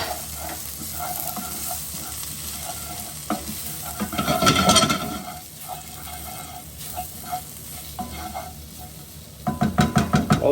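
Whole chilli, garlic, ginger and Madras curry powder fry in hot oil for a shrimp and sweet potato curry, a loud close sizzle with scraping stirs, a surge of spitting midway and rhythmic spoon knocks near the end.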